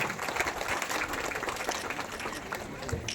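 Applause from the crowd at a women's self-help savings group meeting attended by an MLA and a sub-collector: dense, fairly faint clapping spread through the room, blended with voices and hall murmur.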